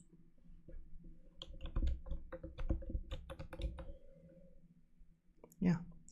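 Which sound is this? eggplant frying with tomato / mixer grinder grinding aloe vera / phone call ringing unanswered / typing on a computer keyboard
typing on a computer keyboard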